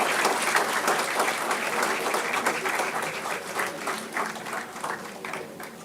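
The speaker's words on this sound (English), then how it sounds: "Big round of applause for all the graduating students." A large audience at a business school convocation in Bengaluru gives graduating MBA students a sustained round of applause. The dense clapping fills the hall and fades slightly toward the end.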